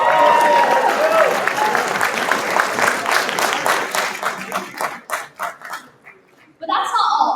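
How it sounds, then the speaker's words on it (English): An audience at a university entrepreneurs club demo day breaks into loud, dense applause that thins into scattered claps and fades out near the end. "Let's give a huge round of applause"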